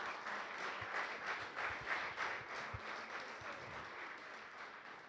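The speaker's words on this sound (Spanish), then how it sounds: "Dale un aplauso al Señor por eso." A church congregation claps during a Spanish-language sermon, a dense, steady wash of applause from many hands, fairly distant and soft, holding for about five seconds.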